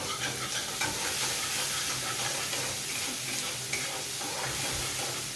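Oil frying in a pan while cooking a spicy katla fish curry with kokum and mustard: a steady, close sizzle that fills the whole stretch with no talk over it.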